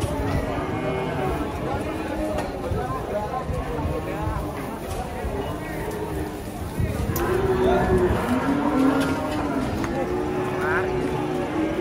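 Young Simmental calves at a cattle sale give a couple of low, drawn-out moos partway through. The calls are partly masked by people talking and by steady crowd and outdoor noise.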